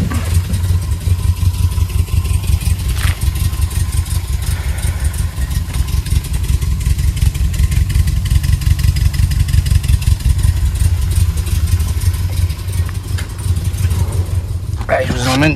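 A small Mercedes Baby-Benz engine idles with a fast, uneven rumble, its idle not yet properly adjusted, close by, while a person talks over it.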